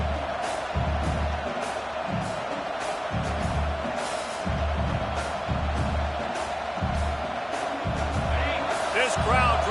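A college football stadium crowd roars steadily at a Bruins game, a broad wash of cheering under near-constant play-by-play commentary.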